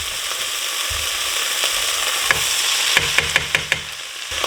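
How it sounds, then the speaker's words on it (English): Browned beef fries with oil and a frozen seasoning blend in a steady, loud sizzle. A spoon scrapes and stirs the pan now and then, and no one talks. "Once this is starting to get some good color on it, I can add back in my beef."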